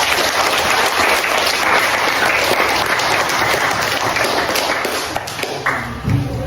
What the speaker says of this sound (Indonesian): aplaus dulu untuk kita semua